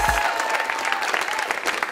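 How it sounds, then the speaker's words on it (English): Comedy show audience breaking into steady, dense applause that fills the whole stretch, loud and close with a few cheers mixed in. "Okay, clap it up for Mellis."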